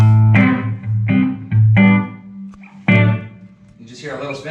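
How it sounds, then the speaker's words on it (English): An electric guitar strikes several loud chords with short pauses between them, each ringing out with a light reverb tail, close and alone. "So if we put a little bit of reverb, it sounds like this."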